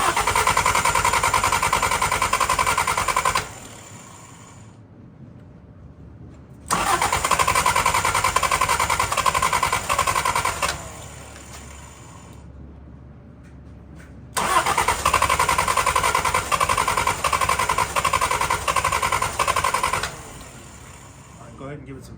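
A 1975 Honda Civic CVCC engine on a new carburetor runs loudly in three separate stretches with quieter gaps between them, while people talk nearby.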